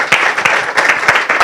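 Audience at a graduation ceremony clapping in bursts, rhythmic claps from a crowd heard close and fairly loud.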